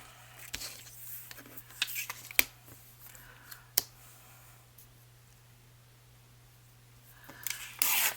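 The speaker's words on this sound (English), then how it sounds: "I'm going to tear it all the way around." A book page is torn by hand, with scattered light paper handling clicks and taps followed by a short, loud ripping burst close up at the end.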